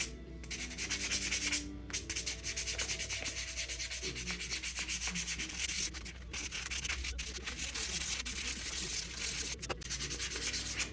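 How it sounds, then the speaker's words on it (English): Sandpaper rubs steadily over a small wooden crankbait lure to smooth out gouges left by vise teeth, a close, dry scratching in quick repeated strokes with brief pauses, faint and without talk. "trying to sand out the gouges that vice's teeth put in the side of this bait"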